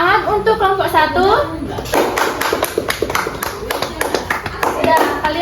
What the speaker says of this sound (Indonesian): Ayo kita beri tepuk tangan untuk kelompok 1.